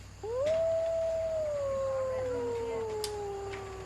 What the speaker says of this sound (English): Arlene also raises wolves.